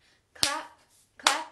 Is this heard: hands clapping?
yes